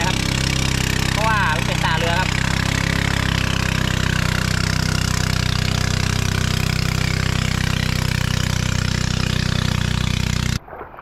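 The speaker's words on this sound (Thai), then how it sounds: "เรือครับผ่านครับ" A boat engine passing on the Moei River drones steadily and loudly throughout, with a brief voice near the start, cutting off abruptly at the end.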